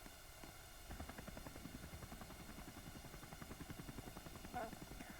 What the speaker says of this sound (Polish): Normalnym helikopterem.